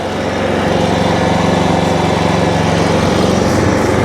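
A petrol lawn scarifier runs steadily across a lawn, its engine droning loud and close with a constant mechanical rattle as the blades scrape the soil, no voices heard.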